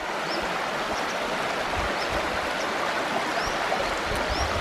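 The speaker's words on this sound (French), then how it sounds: "Et regardez quand même la petite rivière" A small river flows steadily through a Japanese countryside village, a continuous close broadband rush of water with no pauses, and a few faint bird chirps above it.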